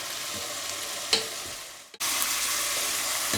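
Vegetables and peppers sauté in a pan for a meat lasagna sauce, a steady close sizzle with a brief stirring scrape and a short dip before the frying hiss returns loud and even.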